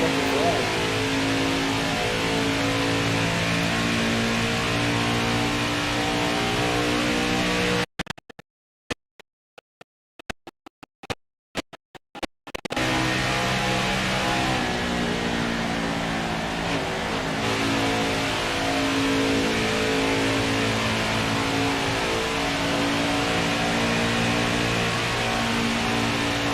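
A NASCAR Xfinity Series race car from the NASCAR Heat 5 game revs loud and close around Indianapolis, its engine note climbing and falling through gears. It cuts to near-silence for a few seconds midway, then roars back steadily.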